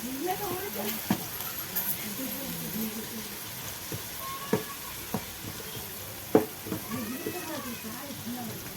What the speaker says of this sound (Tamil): போட்டு அதை நல்லா கிளறி விடணும்.